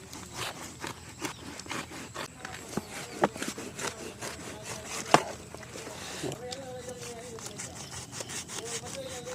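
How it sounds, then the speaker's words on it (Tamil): A jackfruit stem being cut with a blade outdoors, giving a steady scraping, sawing rasp with repeated rough strokes and a few sharper snaps, close and moderately loud, with voices in the background. "இந்த காம்பு கட் பண்ணாதான் ம் பழம் சுளை எடுக்கிறதுக்கு ஈஸியாக இருக்கும்"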